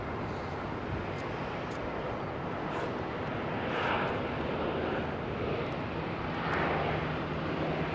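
Airliner climbing away after takeoff at London Heathrow, a steady broad jet roar that swells and fades slightly over several seconds, heard from a distance with some wind on the microphone.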